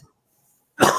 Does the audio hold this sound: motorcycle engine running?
no